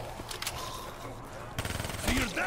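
A fast automatic weapon fires in rapid bursts during a Call of Duty Black Ops 3 zombies match, the quick shots stuttering in short runs. Players talk over the game sounds.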